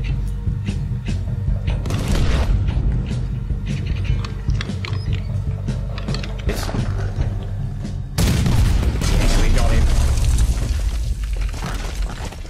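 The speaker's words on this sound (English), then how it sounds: "Use the cannon out there." Cannon fire and gunfire in the Red Dead Redemption 2 video game, with repeated loud booms and blasts over a continuous battle din that swells even louder near the end.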